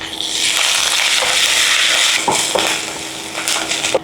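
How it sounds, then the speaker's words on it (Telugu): Garlic, chili flakes, curry leaves and coriander frying in hot oil for an egg pickle tempering, a close, steady bright sizzle punctuated by a few soft clinks of stirring. "చిల్లీ ఫ్లేక్స్, కరివేపాకు అండ్ కొత్తిమీర కూడా వేగనివ్వండి"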